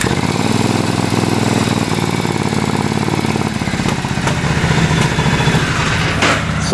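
A Triumph motorcycle engine idles after carburetor adjustment, with a loud, steady, close rumbling drone that holds throughout with a slight dip in the middle.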